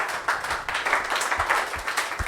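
A crowd at a school celebration of 12th-class results in Ajmer applauds students, giving dense, loud, continuous clapping that swells and dips without a pause.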